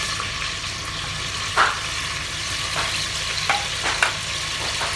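Onions frying in oil in a pot for aloo gosht, a steady close sizzle with a few light scrapes of a spoon as they are stirred; no one talks.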